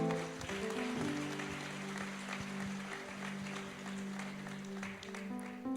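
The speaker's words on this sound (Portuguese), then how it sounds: "um aplauso para ela" A church congregation applauds a woman after a prayer teaching, a steady wash of clapping running the whole time beneath a sustained low musical drone, fairly faint and distant.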